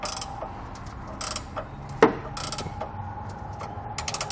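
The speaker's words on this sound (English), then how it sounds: "we can come back with a 19 millimeter socket and wrench and start getting our hardware tightened down" A 19 mm socket and ratchet wrench tightening flange nuts on a Class III trailer hitch on a 2020 Dodge Journey: quick bursts of ratcheting clicks with pauses between them and one sharp metallic clank, close and without talk.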